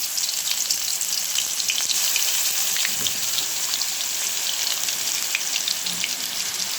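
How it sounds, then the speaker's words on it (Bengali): Young hilsa fish frying in a pan in a home kitchen, a steady sizzle and crackle with scattered pops, moderately close and uninterrupted by talk. "এখন মাছটা বসাবো"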